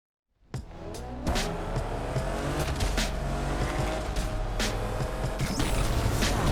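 A car in the racing game Need for Speed Unbound revs up after a short silence and then drives hard, its loud, steady engine roar layered with repeated tire squeals and skids for several seconds.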